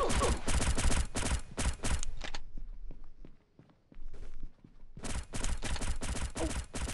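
Rapid bursts of automatic gunfire from another player in Pixel Gun 3D, loud and dense for two seconds, a quieter stretch of scattered footsteps and shots, then heavy firing resumes.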